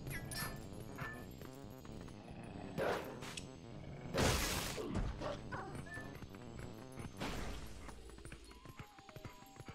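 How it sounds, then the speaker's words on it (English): A creature growls in the video game Twilight Princess, the low rumbling mixed with a busy game soundtrack of hoof-like clopping, crashes and effects over about ten seconds. "I like the growling he does."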